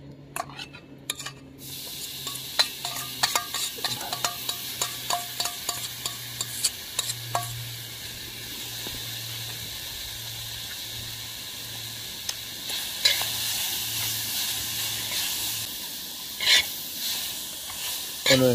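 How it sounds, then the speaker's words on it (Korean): Seasoned deodeok root grilling in a pan after meat gives a continuous low sizzle, punctuated by frequent clicks and scrapes of a utensil turning the pieces, with a steady hum underneath. "이제 여기다가 도덕을 한번 굽도록 하겠습니다."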